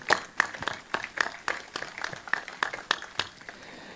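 Light applause from a modest audience at a tribute event honoring the late Richard Foster, scattered distinct claps in an irregular rhythm, fairly quiet and sparse over a few seconds.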